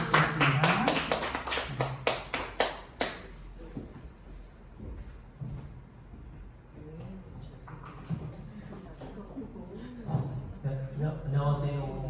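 A small church congregation at a Sunday worship service gives a short burst of scattered, tapping applause to welcome a lecturer, fading after about three seconds into someone talking.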